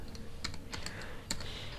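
Quick, light clicks of keys on a computer keyboard while code is typed, irregular taps in a short burst, close and clear over a soft steady background hiss.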